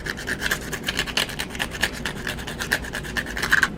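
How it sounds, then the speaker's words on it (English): Sanding a small homemade polycarbonate crankbait fishing lure, with steady back-and-forth rasping strokes that are close and fairly loud, keeping an even rhythm throughout and free of talk. "now let's sand it."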